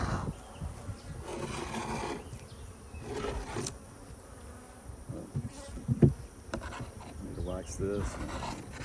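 Honey bees hum and buzz around hives while supers are added and boxes swapped, a steady close drone mixed with scraping and knocking of wooden hive parts.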